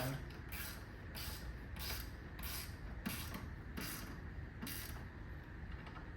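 A ratchet tightens down an oil catch can on a 2024 Ford Mustang GT, making seven or so soft, regular clicking strokes at a steady pace, faint against a constant background hiss.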